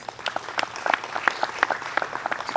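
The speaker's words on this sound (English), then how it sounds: "So give yourself a round of applause" An audience at a Native American Night gathering bursts into applause, a lively, close and fairly loud wash of clapping hands with sharp individual claps standing out, sustained throughout.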